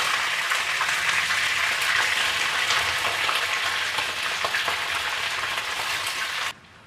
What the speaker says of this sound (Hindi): ये देखें जी, चिकन हमारा बहुत अच्छे तरीके से जो सा फ्राई हो रहा है।